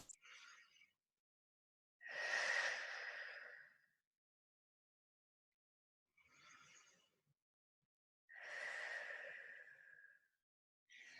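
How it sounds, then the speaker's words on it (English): Deep breaths taken during an upper-body fitness class, heard as four breathy bursts, two short and two long and loud, in a slow in-and-out rhythm, close and alone with no talking. "Take 2 deep breaths."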